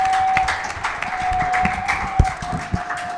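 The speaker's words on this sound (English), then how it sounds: "A round of applause for the Oaks boys and Coach Colleen" A small group claps for the Oakfield Oaks boys basketball team and their coach at a player showcase, with scattered, uneven claps, a few sharp individual smacks, and a steady tone humming underneath.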